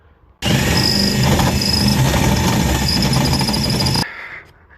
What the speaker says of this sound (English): with these rivets, when you go to try and drill them in, the drill bit catches the rivet